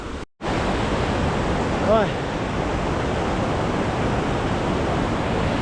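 A cold mountain creek in the Tian Shan rushes steadily as a broad, loud wash, heard close from the bank, with a brief exclamation near the start.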